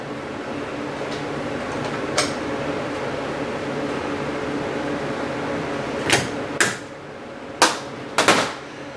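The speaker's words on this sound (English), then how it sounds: "take a 14mm wrench and break this nut" A 14mm wrench breaks loose a nut while changing bearings on a Twister T4, heard as a few sharp metallic clicks and clanks, the loudest bunched near the end over a steady low background hum.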